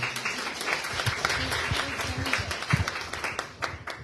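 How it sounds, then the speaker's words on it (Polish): A crowd at a local election campaign convention in Płońsk, Poland, gives sustained applause, a thick stream of overlapping claps with a few louder individual slaps, while faint voices murmur underneath. "także myślę, że brawa dla pani Grodkiewicz"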